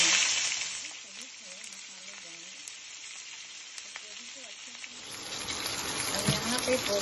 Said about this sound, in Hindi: अब इसमें हम अपने गोभी को फ्राई करेंगे।